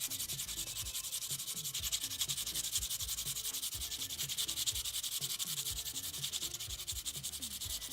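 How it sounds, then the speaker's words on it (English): A pencil tip is rubbed against medium-grade sandpaper, giving a steady, close scratchy rasp of quick repeated strokes that runs on without pause. "And then we sharpen with sandpaper, medium grade,"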